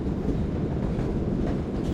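Karachi Express passenger train running along the track, a steady loud rumble of wheels and carriages heard close up, continuous and without speech.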